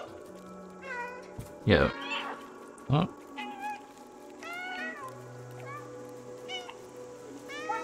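Several meows from a cat in the video game Stray, rising and falling calls spread through the clip, with someone talking and game sounds between them.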